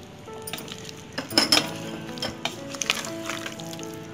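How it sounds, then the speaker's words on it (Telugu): Tomatoes drop into a pan of sizzling mixed vegetable and mutton curry. A steady frying hiss rises, with a few clinks of a spoon against the pot as the mixture is stirred. "ఇప్పుడు మనం టమాటోస్ తీసుకున్నాం కదా, టమాటోస్ని కూడా వేసుకుందాము."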